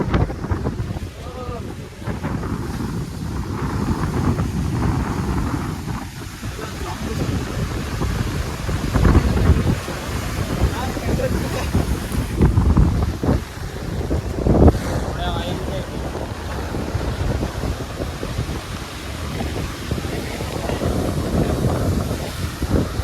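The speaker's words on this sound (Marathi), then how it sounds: "फुल भरती चालू आहे. फुल भरती." Wind buffets the microphone at Uran Beach in Navi Mumbai as the sea runs at full high tide, a steady roar of wind and surging water lasting throughout without a break.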